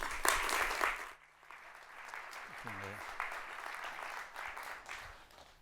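Audience applause welcoming a speaker named Dennis at an evening talk on ecology and theology, a dense burst of clapping at the start that drops away, then continues more thinly at moderate distance.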